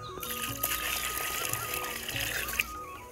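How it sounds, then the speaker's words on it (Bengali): Fresh water is poured into a homemade fish feed mixture containing molasses, a close, steady splashing and trickling stream that runs throughout while a voice speaks over it. "আর এর সাথে কিছু আমরা ফ্রেশ জল অ্যাড করে নিচ্ছি।"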